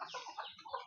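Hen and young chicks clucking and cheeping close by, with several overlapping short calls filling the moment and no talk.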